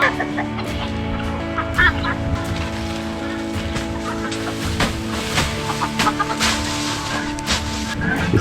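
Chickens in a backyard coop on a rural compound cluck on and off throughout, a busy mix of nearby bird calls over a steady low background hum, with sharper squawks punctuating the flock noise.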